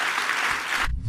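An audience claps in steady, dense applause that cuts off abruptly near the end.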